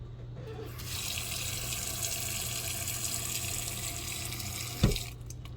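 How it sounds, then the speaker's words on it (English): Tap water runs steadily from a faucet over chokecherries in a pot, a continuous close hiss that stops abruptly with a brief clunk near the end. "Just covered the chokecherries with water"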